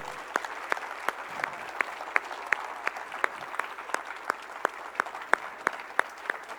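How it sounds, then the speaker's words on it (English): Sparse, steady clapping from a small group at a HackConf tech conference, individual claps distinct and evenly spread, with a faint room murmur underneath. "So big applause for them."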